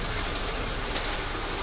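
Trains run in a video game, heard as a steady, dense rumble and hiss of rolling stock that stays constant throughout, fairly loud and without any speech.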